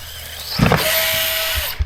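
Rlaarlo X12S RC buggy on a 3S battery revving hard in a backflip attempt, a sudden loud burst followed by a sustained high electric motor whine that holds steady for about a second before cutting off.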